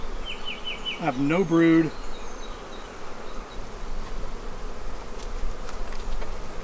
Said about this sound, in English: It's a lot of bees on there.